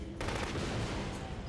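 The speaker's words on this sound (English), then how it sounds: "I'm firing at you with the three burst." A three-round burst weapon fires in The Conduit, an alien-shooter game: loud, clustered gunshots burst in sharply and ring into a sustained, echoing blast that fills the short moment.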